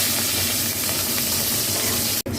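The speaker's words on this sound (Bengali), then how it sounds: "চিকেন ভাজার তেলেতেই আমি বড় বড় করে পেঁয়াজটা আমি একটু হালকা করে শুধু নেড়ে নিয়ে তুলে নিলাম।" Large-cut onions fry in oil left over from frying chicken, giving a loud, close, continuous sizzle that breaks off abruptly for a moment near the end.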